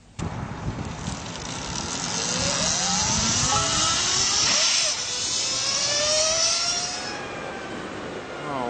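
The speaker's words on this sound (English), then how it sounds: "we took the LS218 up to the Skyline Road so I could let her rip" A Lightning LS218 electric motorcycle at full throttle on Skyline Road, a loud rising whine sweeping upward over rushing wind noise, sustained and close throughout.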